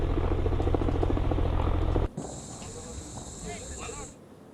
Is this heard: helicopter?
yes